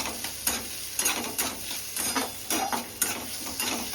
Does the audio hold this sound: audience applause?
no